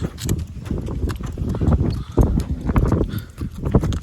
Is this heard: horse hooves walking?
yes